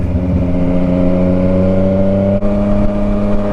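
A car with a new exhaust holds a loud, steady engine drone, deep and rumbling, close by and continuous with one brief dip, no talking heard.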